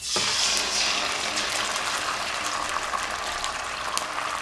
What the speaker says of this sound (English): You see that sizzling there?